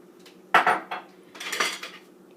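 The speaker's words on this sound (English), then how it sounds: "And we're gonna pour the gandules." Two bursts of rattling and clattering come from pigeon peas spilling into a metal pot, close up, with quiet between the bursts.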